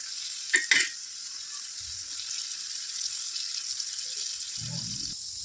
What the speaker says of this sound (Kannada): ಈ ರೀತಿ ರೋಸ್ಟ್ ಮಾಡ್ಕೋಬೇಕಾದ್ರೆ ಎಣ್ಣೆ ಸಿಡಿಯುತ್ತೆ